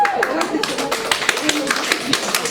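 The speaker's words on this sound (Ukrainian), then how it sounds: "треба мені так аплодувати" Audience clapping after a student acting excerpt at an arts academy open day, a scattered run of sharp claps with voices talking over it.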